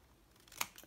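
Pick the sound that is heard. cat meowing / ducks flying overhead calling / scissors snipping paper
scissors snipping paper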